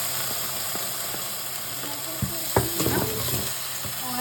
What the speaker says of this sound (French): Faites chauffer l'huile d'olive dans une sauteuse, c'est en cours.